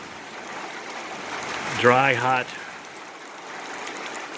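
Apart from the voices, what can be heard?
evening rain during a thunderstorm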